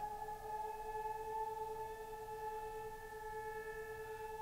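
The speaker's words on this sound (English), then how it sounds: "Air raid sirens." A steady, droning air raid siren with layered sustained tones holds at an even pitch throughout, moderately loud against a low background rumble, within a Chris Stapleton recording of Nothing Else Matters.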